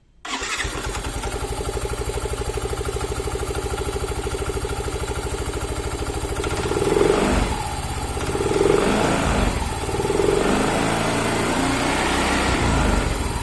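Scooter engine with CVT drive starting and then running steadily up close, a continuous mid-pitched rumble that swells in three revving surges before settling back to a steady idle.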